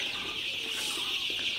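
Dense chorus of Sonali super hybrid chicks chirping in a brooder pen, continuous high-pitched peeping from many birds at once, close and steady.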